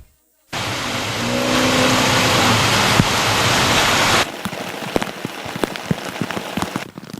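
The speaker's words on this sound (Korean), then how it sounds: "오늘도 많은 곳은 100mm가 넘게 비가 내렸습니다." Steady, loud rain pours down for several seconds during a heavy summer downpour in Gwangju, South Korea, then shifts to scattered heavier drops pattering and splashing on a hard surface, with no voices.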